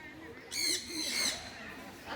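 A macaw parrot gives two loud, harsh, drawn-out screeching calls close by, with a quieter room tone between them.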